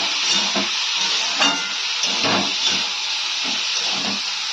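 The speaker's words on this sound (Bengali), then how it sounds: "আমি ভাজাটা সবে বসিয়েছি" Bitter gourd and potato slices fry in a pan with a steady broad hiss, crackling and sizzling throughout, broken by soft intermittent bumps and scrapes.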